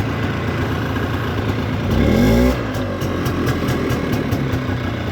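A 2000 Polaris Xplorer 250 4x4 ATV engine runs loud and close, idling steadily with a brief rev around the middle before settling back.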